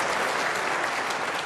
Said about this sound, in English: The biggest cheer so far today.